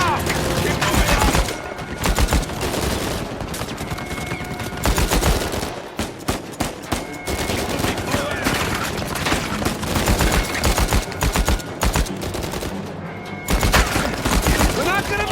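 Dense gunfire in the video game Uncharted 4, with rapid overlapping shots and automatic bursts filling the scene almost without pause, loud and close, amid shouting voices.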